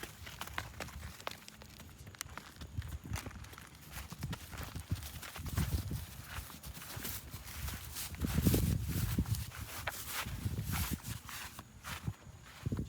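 A horse's hooves clop in an uneven run across the ground toward a horse stall, a steady series of fairly close footfalls with a louder burst midway.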